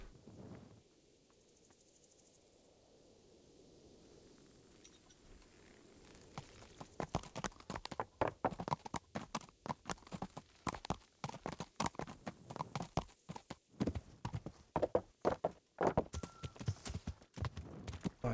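Horse hooves clip-clop at a steady walking rhythm in the video game Kingdom Come: Deliverance. The hoofbeats are close and distinct and start after a quiet windy opening.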